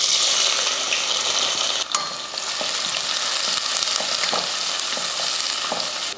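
Onions sauté in hot oil in a pot for a one-pot lunch rice dish, giving a steady, loud, close sizzle and hiss with a few soft stirring knocks and no voices.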